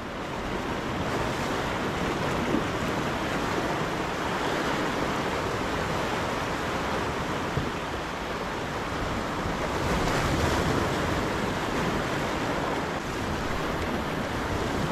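Sea waves surging onto the Konkan coast during fishing, a continuous loud roar of surf mixed with steady wind buffeting the microphone.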